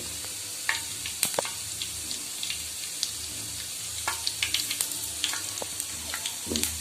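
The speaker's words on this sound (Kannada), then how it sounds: "ಚೆನ್ನಾಗಿ ಕಾದ್ಮೇಲೆ ಸಾಸಿವೆ ಜೀರಿಗೆನ ಹಾಕಬೇಕು" Mustard seeds and cumin splutter in hot oil in a pan while a Kannada dill-leaf and green gram stir-fry is made, with a steady sizzle and scattered sharp pops close by.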